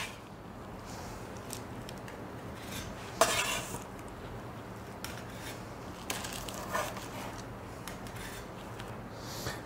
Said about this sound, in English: my second batch is out of the oven, and I'm going to put them here on my cooling rack to cool